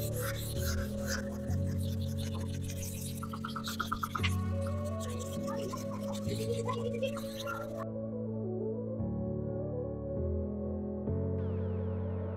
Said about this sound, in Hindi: इस तरीके से पहले गुटके के साथ पूरी जो साइड है वो रगड़ लेनी है।